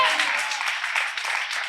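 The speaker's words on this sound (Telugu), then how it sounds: "చప్పట్లు కొట్టండి గట్టిగా" A sermon audience claps loudly, a dense steady burst of applause that carries through the short moment without a break.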